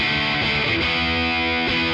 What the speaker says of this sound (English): Then next we have distortion, which has that really aggressive biting sound to it